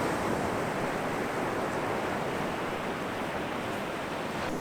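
Ocean waves break on a beach in Scotland, a steady, dense roar of surf with some wind across the microphone, loud and continuous, with no talk.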